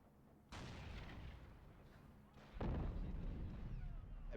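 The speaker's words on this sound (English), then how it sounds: "I gotta put down these explosions." Explosions and artillery fire in a video game boom out in two heavy blasts roughly two seconds apart, each followed by a rumbling, crackling tail at fairly low volume.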